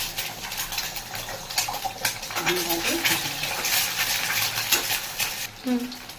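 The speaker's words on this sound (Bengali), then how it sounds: "তেলটা একটু গরম হোক, শুকনো লঙ্কা দিলাম। এই দেখুন এতে কেমন চিচিড়া আওয়াজ হচ্ছে।" Dried red chillies sizzling in hot oil in a pan, with an egg cracked in, a close steady frying crackle and spatter with occasional stirring clinks, under a voice talking.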